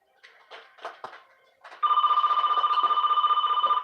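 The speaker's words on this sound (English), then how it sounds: "Phone's ringing." A telephone rings steadily and loudly with a continuous electronic trill, after a few seconds of softer speech-like sounds, and the ringing carries on to the end.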